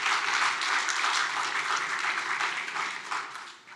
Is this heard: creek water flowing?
no